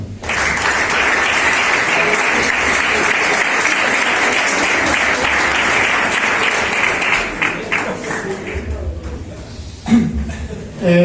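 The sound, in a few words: audience applause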